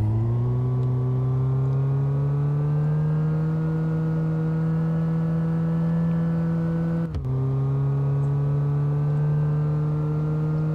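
A car with a performance engine drives at a steady hum and holds a constant pitch, loud and close from inside, with one brief dip partway through.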